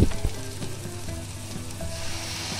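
Ground spice paste with tomato and salt sizzles steadily in a pan, with soft stirring scrapes and a few light knocks over the constant frying hiss.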